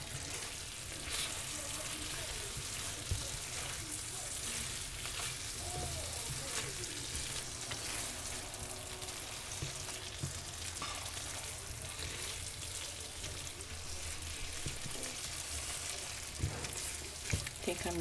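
Beef and vegetable stir fry sizzling and crackling in a hot pan while being stirred, a steady frying hiss broken by soft utensil clicks and scrapes, with faint talk now and then.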